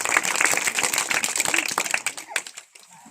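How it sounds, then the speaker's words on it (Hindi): People clap their hands in a rapid, busy burst of claps at a village gathering, close and fairly loud, thinning out toward the end. "ताली मार दो"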